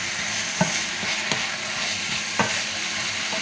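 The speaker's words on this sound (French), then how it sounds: "je vais mettre mes tomates. Et on va laisser mijoter comme ça." Tomatoes cook in a pan with a steady, even sizzle and bubbling hiss, punctuated by a few light utensil taps, heard close and alone without talk.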